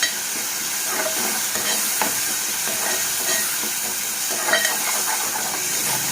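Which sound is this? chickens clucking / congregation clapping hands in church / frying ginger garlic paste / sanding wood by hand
frying ginger garlic paste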